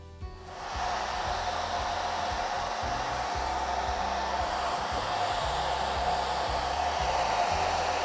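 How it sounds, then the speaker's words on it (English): A hair dryer on high switches on to dry a painting and blows a steady, loud whooshing hum without pause, close to the listener. "you can get your hair dryer out. I'll be right back. I'm just gonna put it on high"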